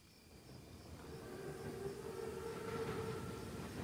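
A Panzerzug armored train in the Call of Duty WWII video game, a steady, swelling rail rumble with a faint whistle-like tone, growing gradually louder as it approaches.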